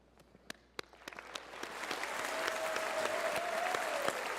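Audience applause at a university Faculty of Arts graduation ceremony, starting as a few scattered claps and swelling into steady, sustained clapping from a large crowd in a hall.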